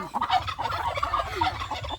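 A chicken gives a rapid, warbling gobble-like call in quick bursts, close by and fairly loud, with no voices.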